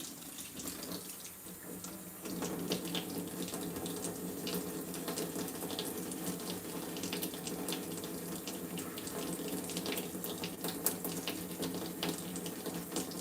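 A tap runs steadily into a sink while a nitro RC engine from an HPI Firestorm is washed with an old toothbrush, a continuous close splashing rush that grows slightly fuller after a couple of seconds, with no talk.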